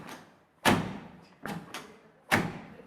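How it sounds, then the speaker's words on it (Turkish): A series of solid thuds from a Nissan Terrano's door being shut, four separate closes spread over a few seconds, fairly close and with no talking. "Bak kapı sesi falan güzel."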